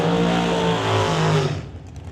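T&T Motorsports dragster engine at a drag race, a loud, steady near roar with rich harmonic tones that holds for about a second and a half, then drops away abruptly into fading noise.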